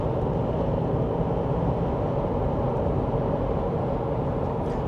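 Cabin noise inside a 2025 GWM Cannon 2.4T 4WD ute cruising on a motorway, a steady low roar of wind and road rumble, continuous and even with no voices.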